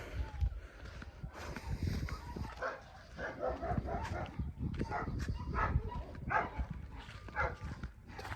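Dogs bark and yip in the distance over steady wind and outdoor background noise, with a few fainter whimpering sounds mixed in.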